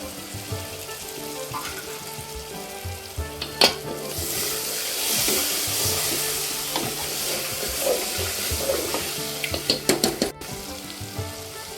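Steady sizzling of chicken frying in masala, with occasional stirring clatters and a few sharp utensil clicks near the end; no talking.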